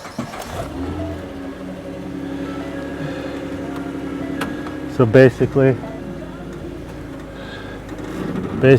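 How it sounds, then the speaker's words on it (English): A 1961 Ford F100 truck engine idles steadily nearby, then revs in short bursts as the truck backs up onto a board, while someone talks over it. "I'm just going to back the truck right up onto this board."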